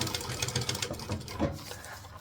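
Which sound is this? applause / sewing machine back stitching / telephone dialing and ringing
sewing machine back stitching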